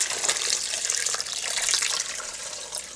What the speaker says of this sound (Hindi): 4 कप पानी शामिल कर दें।